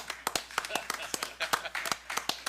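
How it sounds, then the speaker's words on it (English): Sparse, uneven clapping from a small group at a city board of public works and safety meeting, a few dozen distinct claps over a couple of seconds, fairly close, honoring a retiring chief. "let's give the chief a standing ovation, a round of Yeah. applause"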